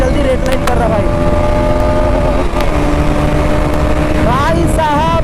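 Bajaj Pulsar NS200 BS7 motorcycle engine revving hard toward redline, a loud rising whine with pitch climbing and stepping, close and continuous, with wind noise and a voice talking over it.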